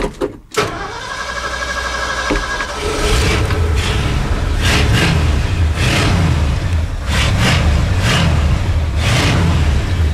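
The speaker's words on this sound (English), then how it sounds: "We're gonna start it up anyhow." An old Ford wrecker truck engine cranks briefly, catches, and settles into a loud, rough running rumble close by, with no voices.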